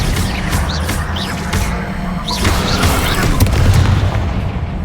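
Spell effects crackle and whoosh in Hogwarts Legacy, a loud dense barrage of magical zaps and booms layered over game combat noise, with several rising chirps repeating across the stretch.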